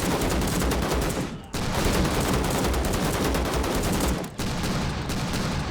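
Sustained rapid 30mm high-explosive cannon fire from a vehicle turret in the Call to Arms war game, Iraq invading Kuwait in 1990, a loud continuous barrage of bursts with two brief gaps and no talk.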